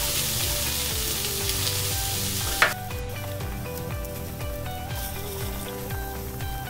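Chopped celery and other mirepoix vegetables sizzle and fry steadily in a Dutch oven, a close, continuous crackle with stirring scrapes and one sharp clatter partway through.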